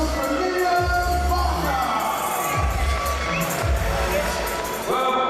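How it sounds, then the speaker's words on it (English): Crowd at a fight event cheering and shouting for the winner, a loud continuous roar of voices with an announcer's amplified voice over it. "And a massive round of applause for Liam"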